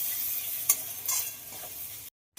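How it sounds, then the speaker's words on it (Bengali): Spice paste for a yogurt prawn dish fries in a pan while being stirred: a soft, steady sizzle with a few sharp spatula scrapes, then a brief silent gap near the end. "এদিকে মশলাটা খুব ভালোভাবে ভাজা হয়ে গেছে।"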